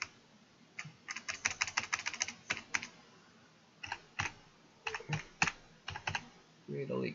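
Fast bursts of close, crisp keystrokes on a computer keyboard while setting up Minecraft Forge mod coding in Eclipse, in clusters with short pauses, a brief voice entering at the end.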